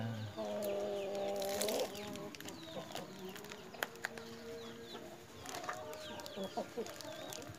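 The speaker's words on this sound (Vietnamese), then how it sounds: "Giới thiệu luôn gà đồi. Gà chạy bộ đấy." Free-range hill chickens clucking outdoors, several soft calls and short bird-like notes scattered over steady background noise, with a louder burst near the start.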